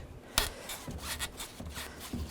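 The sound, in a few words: radiator hoses being slid off a 2011-15 Kia Sorento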